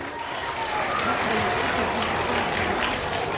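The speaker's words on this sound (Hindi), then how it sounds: "जोरदार तालियां सभी की।" Clapping from a gathered crowd at a school results day, fairly dense and continuous, with faint voices mixed in beneath the applause.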